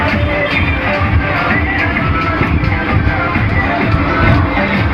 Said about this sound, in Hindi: कितना भीड़ है।